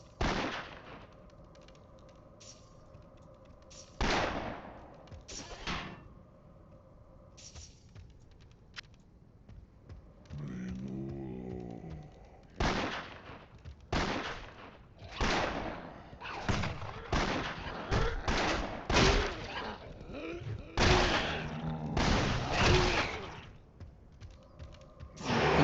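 Explosive shots fired in a cave in a video game: a series of sharp, punchy blasts, sparse at first and then coming in quick irregular bursts, with a brief mechanical whir in between.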